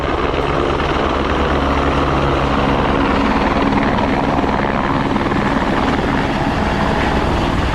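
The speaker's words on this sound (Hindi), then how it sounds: "वो सामने से हेलीकॉप्टर आ रहा है" A helicopter's loud, steady rotor roar and engine drone fill the whole stretch, close by and continuous, with no voices.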